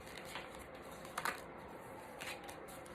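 Tarot cards being shuffled by hand, soft papery riffles and slides at a low, even level with a couple of brief louder flurries and no talking.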